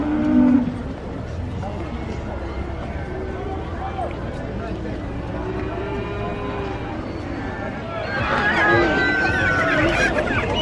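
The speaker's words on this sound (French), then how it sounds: "on a failli se faire tuer par une vache, elle est derrière là" A cow at a busy livestock market lets out a few loud moos near the start and end, heard over a steady hubbub of people chattering and bargaining nearby.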